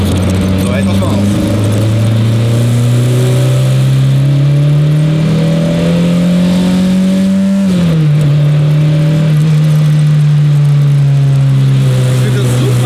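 A car engine revved hard at full throttle with notably loose engine mounts, a loud droning tone climbing steadily in pitch, dipping abruptly, then holding high again, close and continuous throughout.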